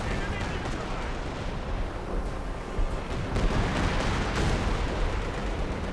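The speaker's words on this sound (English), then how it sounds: "Katyusha Rocket Barrage hitting the squads" A Katyusha rocket barrage and artillery in the Company of Heroes 2 game, a dense and continuous roar of loud explosions and impacts rumbling without a break.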